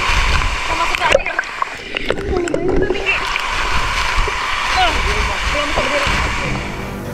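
People wade into the shallow pool beneath a waterfall in North Sulawesi, and water splashes and sloshes around them in irregular bursts over a constant rush of falling water, with voices talking close by.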